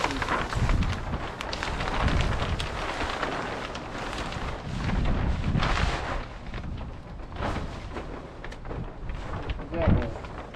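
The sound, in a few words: wind blowing outdoors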